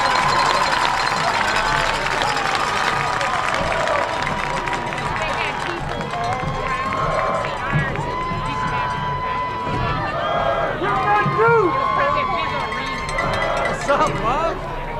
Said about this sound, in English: Now let's give a big round of applause to the football class of